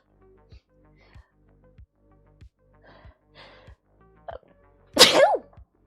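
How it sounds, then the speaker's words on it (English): A single loud, sharp sneeze bursts out near the end, following a stretch of faint rhythmic background thumps and quiet breathy sounds. "oh, sorry, I sneezed on you by accident."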